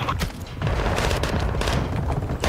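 Gunfire in the video game Warzone 2, with dense, continuous volleys of shots and booming impacts filling the whole stretch at a loud, steady level, without talk.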